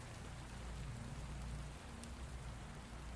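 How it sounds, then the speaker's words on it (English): Steady, dense rain pours down continuously, a broad hiss with low rumbling underneath and no voices. "The rain hammers down on the Fook bottomlands with a violence that seems personal"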